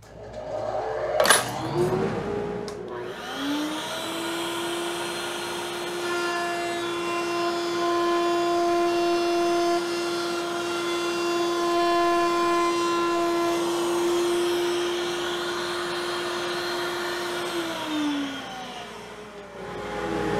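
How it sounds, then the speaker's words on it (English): A router table with a 1/4 inch round beading bit spins up and runs a bead profile into wood, a loud sustained high whine holding steady close by for most of the stretch before winding down. "Router table, 1/4 inch round beading bit."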